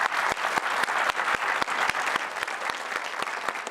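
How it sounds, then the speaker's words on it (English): Studio audience applauding at a Christmas-season broadcast, a steady burst of clapping with sharp individual claps standing out, close and full throughout, with no talk over it. "A round of applause for our people."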